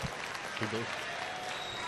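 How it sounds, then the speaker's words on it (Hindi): Audience applause at a mushaira poetry gathering in Aurangabad, a dense, steady wash of clapping heard from within a hall, moderately loud and continuous with a brief voice rising through it. "एक ताली बजाइए भाई के लिए"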